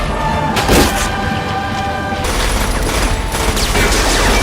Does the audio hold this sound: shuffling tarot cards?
no